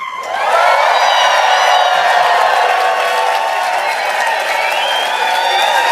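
A large crowd cheers and applauds loudly and steadily for basketball coach Phil Jackson, with whoops and shouts rising over the sustained roar.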